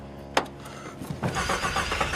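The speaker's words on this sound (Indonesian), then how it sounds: "James sambil berdoa memohon pertolongan, berusaha terus menyalakan mobilnya." A car engine cranks and struggles without catching in a film scene, with a sharp click followed by a rough, sputtering whine that rises and wavers for about two seconds.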